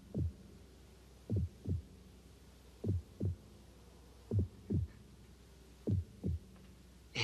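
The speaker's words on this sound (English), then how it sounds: "It's his heart beating." A slow, deep heartbeat thumps in paired beats, lub-dub, repeating steadily and close against a quiet hum.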